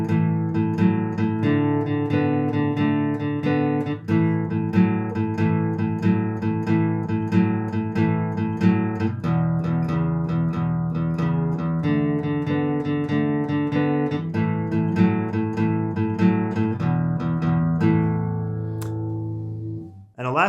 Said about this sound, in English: the 12-bar blues shuffle, which basically is strumming 2 chords at once